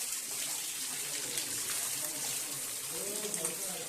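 Water flows steadily from a stone cow-mouth spout at the Rajapur Ganga shrine, a continuous close splashing rush with faint voices in the background.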